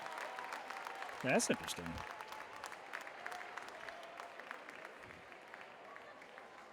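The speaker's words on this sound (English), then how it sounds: "Hear the applause there for the Franklin Panthers as they come back onto the court." A crowd at a varsity volleyball state final applauds as the Franklin Panthers return to the court: faint, steady clapping throughout, with a brief spoken remark near the start.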